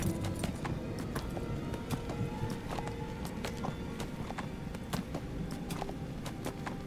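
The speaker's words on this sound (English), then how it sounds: "Don't knock me off my horse." Horse hooves trotting in the video game Neverwinter, a quick steady clip-clop rhythm of many sharp strikes running throughout at moderate level, with no talk.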